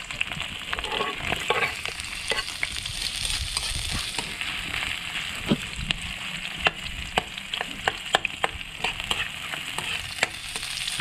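Ginger, garlic and onion sauté in a pan, a soft continuous sizzle broken by frequent sharp clicks and taps of a utensil stirring, moderately quiet with no talking.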